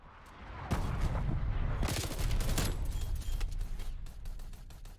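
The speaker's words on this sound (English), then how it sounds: "Artillery inbound." Artillery strike on the Nuketown '84 map in Call of Duty: Black Ops Cold War multiplayer: a dense, loud barrage of booming blasts and rumbling impacts rolling on for several seconds.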